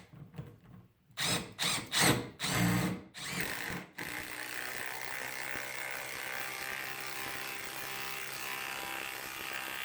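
Power drill driving a 3/8 inch lag screw into a board with no pilot hole, a few short, loud bursts of motor whine, then a steady, quieter hum.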